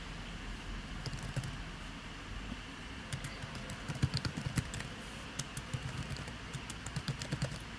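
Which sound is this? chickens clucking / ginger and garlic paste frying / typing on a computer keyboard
typing on a computer keyboard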